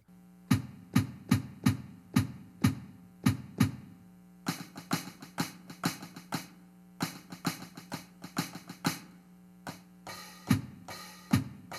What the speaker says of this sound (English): The closed hi-hat sound and the open hi-hat sound